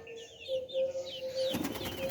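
Birds chirp briefly, then a sudden burst of rapid wing flapping erupts close by, continuing in a fluttering rush as released pigeons take off.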